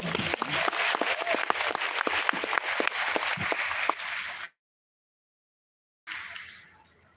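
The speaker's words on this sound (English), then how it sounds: "Can we give again applause to James?" An audience at a leadership training event bursts into brisk clapping with some sharp individual claps, which cuts out abruptly and then resumes briefly before fading.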